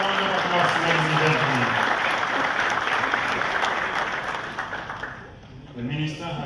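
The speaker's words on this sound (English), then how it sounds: "Another round of applause, ladies and" Applause from the audience at a finance minister's media briefing on VAT: dense, steady clapping that thins out toward the end, with a voice speaking over it.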